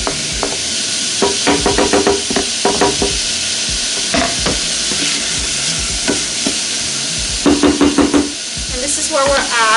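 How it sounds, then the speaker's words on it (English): Garlic sizzling in a hot pan while being stirred, steady frying hiss with repeated scraping strokes of the spoon coming in bursts, close and loud, no talk. "Give it a good stir. And we'll add our garlic."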